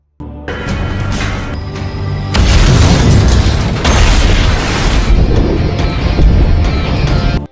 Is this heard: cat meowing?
no